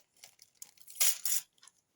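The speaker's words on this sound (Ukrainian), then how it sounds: "Що тепер відкриваємо пакетик" A small collectible packet is torn open, giving a few short crinkling rips of plastic foil that peak in two louder bursts near the middle, close and alone without speech.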